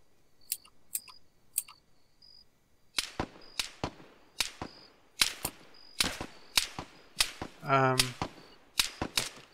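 Gunfire in the military video game Arma 3: sharp, close shots crack in irregular bursts, sparse at first and then rapid and repeated, with one longer rattling burst near the end and no talk.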